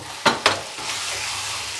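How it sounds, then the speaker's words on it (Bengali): Spices sautéing in hot oil for a jackfruit cutlet mixture, with two sharp stirring scrapes early on over a soft, steady sizzle that continues to the end. "আমি এই সমস্ত দিয়ে একটু সাঁতলে নেব যাতে মশলাগুলো ভাজা হয়ে যায়"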